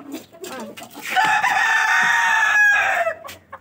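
Rooster crowing loudly and close by for about two seconds, preceded and followed by hens clucking in a farmyard coop where the birds have been feeding on insects.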